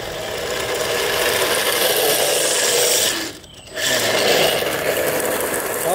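A 3Racing RX7 RC drift car gives off a steady, close electric whine that dips briefly as it sweeps past, then rises again to a continuous buzz.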